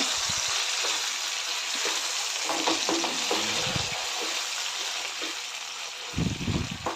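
Steady frying hiss with soft, wet stirring and scraping as mashed eggplant, onion and tomato are mixed in a hot pan, heard up close throughout.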